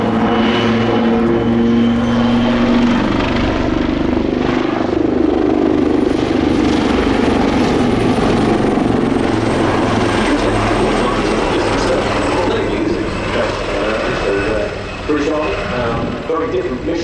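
Military aircraft roaring overhead at the Royal International Air Tattoo airshow, a loud sustained engine and rotor-like drone that swells and holds for the whole stretch, with commentary voices faintly mixed beneath.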